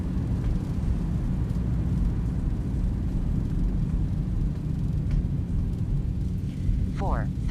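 A Boeing 737-800 in X-Plane 11 rolls out on landing with thrust reversers deployed, giving a steady, heavy roar and low rumble throughout, with a brief electronic chirp near the end.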